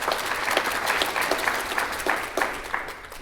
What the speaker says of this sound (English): So big round of applause around the Early Learning Center.